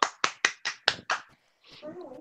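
Six sharp hand claps in a quick, even series from a few people on a film-trailer discussion podcast, followed by a short pause and then someone speaking.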